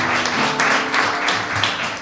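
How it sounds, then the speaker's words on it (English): Audience applause at a book signing event at a museum in Paterson, a steady, dense burst of clapping from a crowd filling the room, continuous and fairly loud throughout with no voices over it. "Give him a round of applause."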